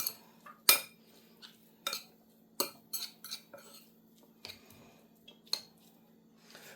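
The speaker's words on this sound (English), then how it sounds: "And then we will just quickly give that a stir around." Metal utensils tossing a Nicoise salad with albacore tuna in a bowl: a string of sharp, close clinks and scrapes at an uneven pace, with quiet gaps between them and no talking.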